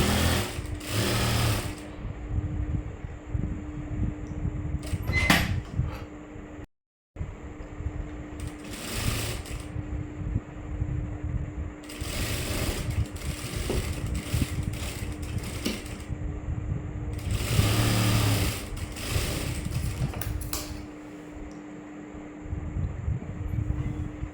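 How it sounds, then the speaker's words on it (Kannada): A sewing machine stitching the lower part of a blouse whirs in several close, rapid bursts of stitching, separated by brief pauses and light mechanical clatter, with no talking. "ಈ ಥರ ಫಸ್ಟು ನಾನು ಡೌನ್ ಪಾರ್ಟ್ನ ಸ್ಟಿಚ್ ಮಾಡ್ಕೋತಾ ಇದ್ದೀನಿ."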